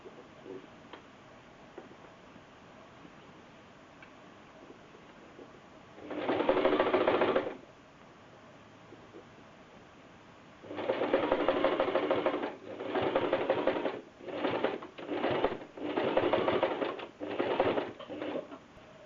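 A sewing machine stitches a seam on a girl's dress in close, steady bursts: one short run, a pause, then a long run followed by several brief stop-start runs, with no talking.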